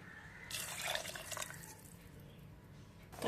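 Water pours into a pot of soaked millet and dal, a faint splashing trickle that swells for about a second and then tapers into quiet dripping.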